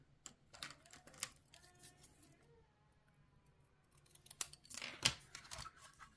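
Scissors snip through paper while a Stampin' Up Easter bunny box is crafted, giving a handful of crisp, close cuts in short bursts with quiet pauses between them.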